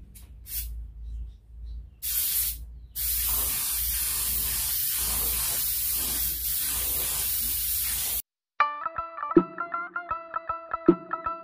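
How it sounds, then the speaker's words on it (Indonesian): Aerosol spray paint going onto Yamaha V80 motorcycle parts, the clutch block and magneto cover: short hissing bursts, then a long steady close hiss of several seconds, followed by a few other clicks and tones. "langsung saja kita semprot"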